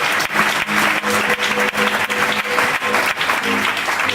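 A church congregation applauds loudly and steadily throughout a Sunday worship service, dense clapping from a large crowd with no pause.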